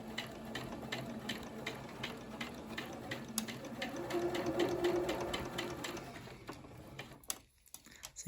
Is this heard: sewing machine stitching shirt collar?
yes